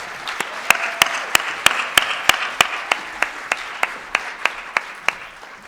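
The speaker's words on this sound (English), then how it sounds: "Can we give the choir another round of applause, please?" Steady, evenly spaced hand claps, about three per second, sharp and close, applauding a choir at a convocation, gradually softening toward the end.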